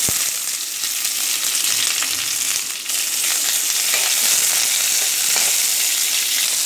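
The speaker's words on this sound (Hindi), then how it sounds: "ये कढ़ाई में थोड़ा सा ऑयल गर्म हो रहा है, इसमें हम अपना अनियन और कैप्सिकम को सौते कर लेंगे।" Onion and capsicum sauté in hot oil in a kadai, giving a loud, continuous sizzle that holds steady throughout with only a brief dip. No voices.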